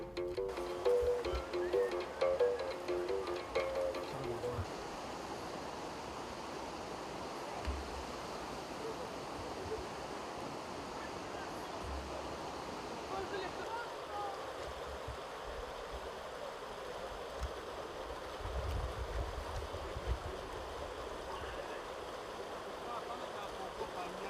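Rushing water of the Lofoï river in the Congo interior flows steadily and fairly close, a broad continuous wash that deepens slightly partway through, with faint voices at times.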